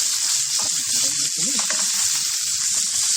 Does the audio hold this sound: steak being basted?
yes